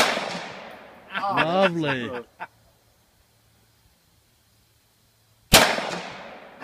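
Two loud, sharp gunshots from an M1A rifle at an outdoor shooting range, one at the start and one near the end, each ringing off, with someone speaking briefly between them.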